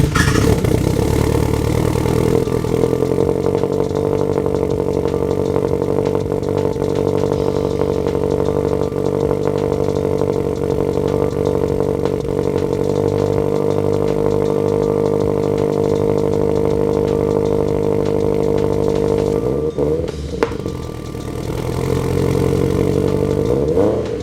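A turbocharged Subaru BRZ, smoking from spilt oil, runs at a steady loud idle close by with a droning tone and some clatter, dipping briefly near the end before picking back up.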